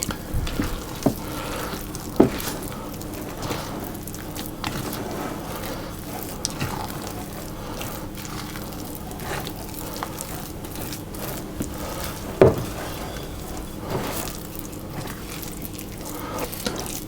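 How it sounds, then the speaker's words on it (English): Chocolate and ginger cookie dough studded with chocolate chips is folded and scraped down to the bottom of a bowl, a soft continuous scraping with occasional louder knocks, close and steady. "Scraping down to the bottom of the bowl to make sure that there's no dry mixture left behind."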